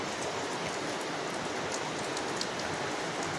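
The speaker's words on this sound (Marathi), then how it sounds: "नंतर पाऊस पण चालू झाला" Steady, dense rain falls during a morning coconut harvest in Kerala, a constant close hiss with no voices and no breaks across the whole stretch.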